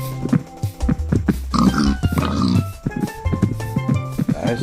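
Pig grunts and oinks from Minecraft pigs, several short snorts scattered across the clip over a busy layer of game music and effects, moderately loud.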